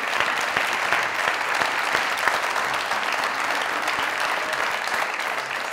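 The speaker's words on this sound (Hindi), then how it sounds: "जोरदार तालियां।" Studio audience at a comedy talk show clapping loudly and continuously, a dense even wash of applause filling the room without a break.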